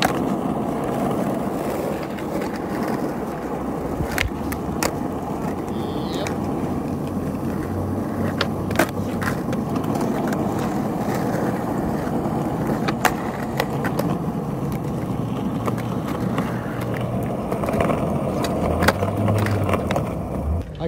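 Skateboard ridden over pavement, a continuous rolling rumble of wheels with scattered sharp clacks and knocks as the board hits edges, steady and fairly close throughout.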